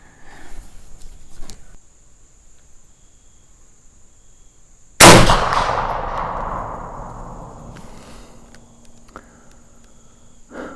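Muzzleloader rifle fired at a 100-yard target, a single loud, sharp report midway with a long rolling echo decaying over several seconds, crickets chirping faintly before and after the shot.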